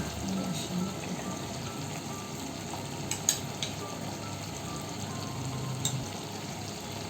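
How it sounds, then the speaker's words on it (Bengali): Rohu fish roe goes into a pan of fried spice paste with coriander powder, and a soft, steady sizzle and crackle of frying follows, fairly quiet with a few light clicks and no talk. "মশলা কষানো হয়ে গেছে এবার দিয়ে দেবো ডিম"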